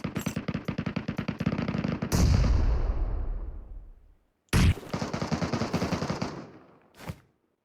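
Rapid automatic gunfire rattles in the video game Metro Royale, a long burst followed by a heavy explosive boom that decays, then another sustained burst and a single final shot.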